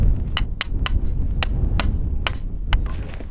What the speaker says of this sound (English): So I'm gonna go ahead and put my stakes in right here.